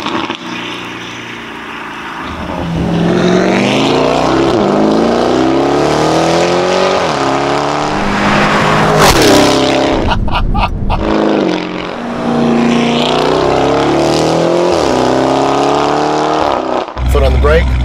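Lamborghini Urus fitted with a Novitec exhaust, flaps open, revving hard with rising and falling engine pitch and bursts of loud crackles and pops, close and loud, with someone talking over it.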